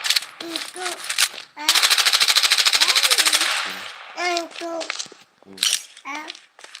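Rapid automatic gunfire rattles loudly for about two seconds in a battle royale video game, set among short synthetic voice callouts and game announcements.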